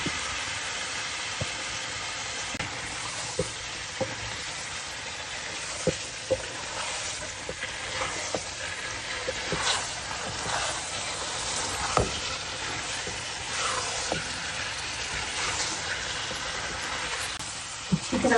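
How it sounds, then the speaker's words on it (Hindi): Fried cauliflower and potatoes for aloo gobi sizzle steadily in masala while being stirred, a constant close frying hiss punctuated by sharp clicks and scrapes of the spoon against the pan. "मसाला में अच्छी तरह भून लेना, फिर हम इसके अंदर में गोभी आलू जो मैंने फ्राई किए हैं वो डालती हूँ।"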